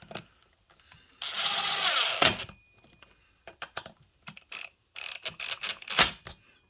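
Sharp clicking of a torque-limited driver set low, snugging oil pump bolts on a Farmertec 288 kit chainsaw, in close bursts of rapid ratcheting clicks separated by brief pauses.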